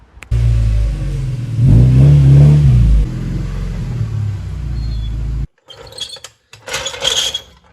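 A Mazda Miata with a knocking fault drives into a garage. Its engine rumbles close and loud and revs up once, then cuts off, followed by scattered clunks and clatter.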